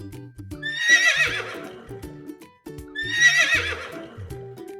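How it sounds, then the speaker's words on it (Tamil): A horse neighs twice in a long, shrill, quavering whinny, each call rising then trailing off, loud and close, with clip-clop hoof sounds beneath. "அதனால் தன் கணைப்பொலியின் மூலம் மன்னரை அழைத்தது குதிரை."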